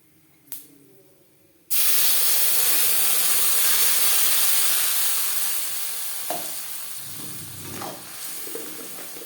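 A spice paste of ginger, green chilli and tomato hits hot oil already holding fried panch phoron and bay leaf, starting with one sudden loud burst of hissing sizzle that gradually eases, with a few stirring scrapes toward the end.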